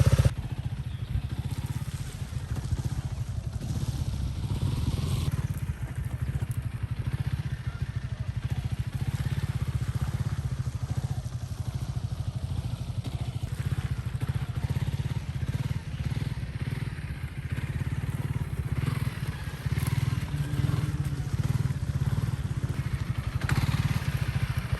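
Honda CRF300L Rally motorcycle ridden slowly at idle, a steady low single-cylinder engine drone held close and constant throughout, with faint clatter from the bike.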